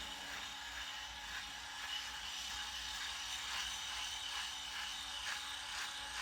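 A Philips Philishave HQ5401 corded electric razor shaves a head. Its steady buzzing whir runs close and unbroken, with no talking.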